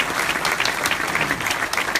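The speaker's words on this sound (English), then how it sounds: "give a round of applause for these guys" Steady applause from a group at a town hall meeting, brisk overlapping claps at moderate loudness, continuing without a break.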